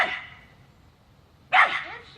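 Two sharp barks from a feral dog, the first at the very start and a louder one about a second and a half later, with quiet between them.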